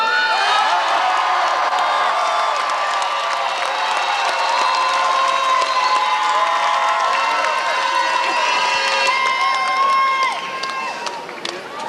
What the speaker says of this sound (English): I want to give a massive cheer for the 30 fellas, players, subs, and the team